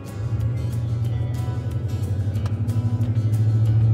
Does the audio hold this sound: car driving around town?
yes